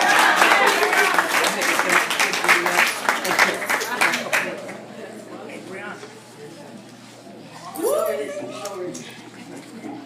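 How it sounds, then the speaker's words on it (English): Audience applause at a student poetry performance, a dense round of clapping for several seconds that fades out, followed by a voice speaking. "Keep that applause going."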